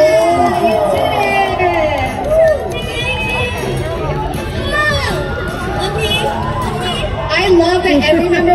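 Excited fans at a K-pop meet and greet shout and cheer loudly and continuously, a dense crowd roar with overlapping high voices and bursts of screams throughout.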